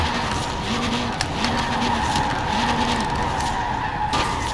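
Tires skid and squeal continuously as a 1972 Reliant Supervan drifts in Forza Horizon 4, loud and sustained with engine drone and repeated rising tonal squeals, no talking.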